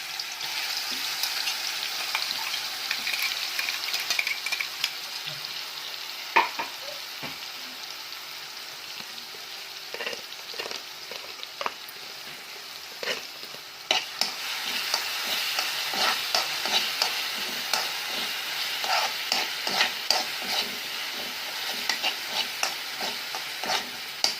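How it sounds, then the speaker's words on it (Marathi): A paste of green chili, cumin and garlic sputters and sizzles steadily in hot oil, with intermittent stirring scrapes and crackles throughout, no voices. "हिरवी मिरचीचं वाटण केलं होतं जिरी लसूण आणि हिरवी मिरची ते आपण आता फोडणीला टाकून द्यायचं"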